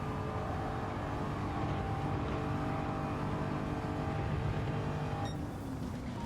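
A race car engine in Gran Turismo holds a loud, steady full-throttle roar with a dense harmonic buzz, briefly shifting pitch near the end.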